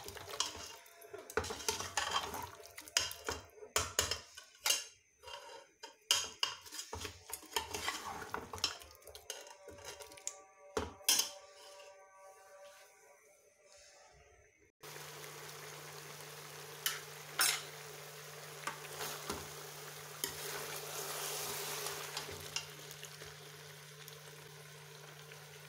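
Turnips and meat being stirred and fried in a pot, with repeated clatter of a metal spoon against the pot over steady sizzling; a loud, constant frying hiss takes over in the later half, with no talking.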